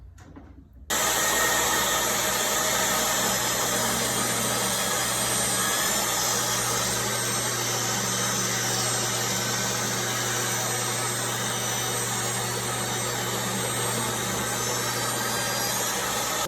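A table saw starts up before cutting 3/4-inch hard maple, switching on abruptly and then running at a loud, steady, close-up whine and hum for the rest of the clip, with no talking.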